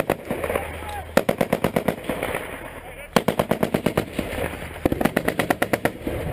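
Rapid bursts of automatic fire from an M249 machine gun during a firefight in Afghanistan, sharp rhythmic cracks in two long strings, loud and close.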